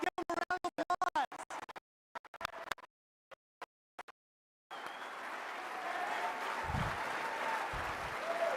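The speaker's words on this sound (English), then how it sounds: "Let's give them a round of applause." Conference audience applause at CPAC, a sustained wash of clapping that swells in after a few choppy, broken-up bursts of sound and continues loud and steady to the end.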